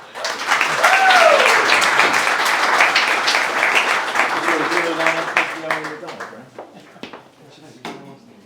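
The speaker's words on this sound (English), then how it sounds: "please give a warm orange applause for Chris Ralph, Rob Stubbs and Luke Murphy." A summit presentation audience breaks into warm applause that swells loudly, then thins out as a voice starts talking and scattered claps fade.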